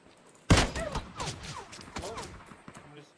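A single sharp gunshot landing a headshot in a shooter video game, loud and close, followed by quieter game sounds and chirping tones, with voices faintly in the background.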